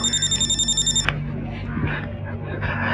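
A telephone rings in a rapid pulsing electronic trill for about a second, then stops, leaving quiet room noise and faint movement.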